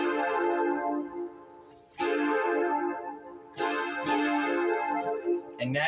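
A synthesizer plays a multi-note train horn chord, a sustained, buzzy, brassy tone that restarts twice with fresh attacks and a slight chorus-like shimmer, sounding alone.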